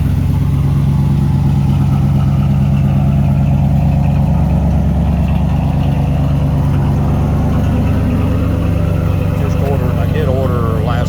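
An OBS-generation pickup truck engine idles with a steady low-pitched rumble that holds evenly throughout, close to the microphone.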